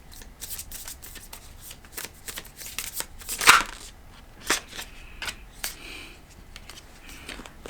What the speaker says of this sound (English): Okay, I'm going to pull one more card.